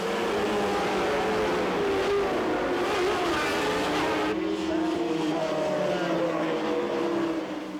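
Superbike racing motorcycles roar past on the track at Mosport, a loud continuous engine drone with shifting pitch as a dense pack passes, sustained throughout with no voices.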